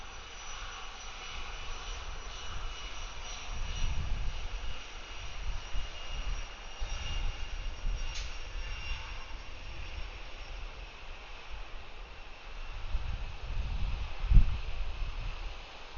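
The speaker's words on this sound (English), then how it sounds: "the CRJ is starting his takeoff roll" CRJ regional jet beginning its takeoff roll at Atlanta airport, a distant low engine rumble that swells and fades with a steady faint whine, heard alone with some wind.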